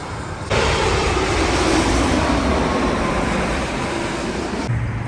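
A United Airlines airliner flies low near Los Angeles International Airport, a loud, broad engine roar that rises suddenly and holds steady for several seconds before fading slightly, heard from a nearby viewing spot.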